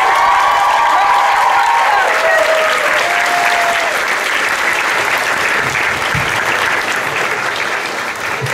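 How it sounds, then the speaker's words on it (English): A convention crowd at Wizard World Chicago 2016 gives steady, loud applause and some cheering for actress Rose McIver, sustained throughout. "Please give a round of applause for Rose McIver."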